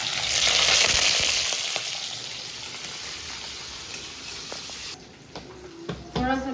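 Curry leaves, mustard seeds, onion and green chilli fry in a pan, loud sizzling that gradually settles into a quieter crackle with a few utensil knocks near the end.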